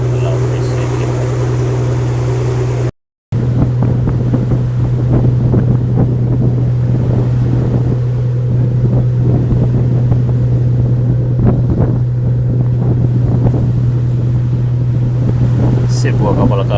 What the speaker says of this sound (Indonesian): Di sebelah kanan kapal KM Gracilia yang saat ini sedang melaju menuju ke Kabupaten Banggai, Sulawesi Timur.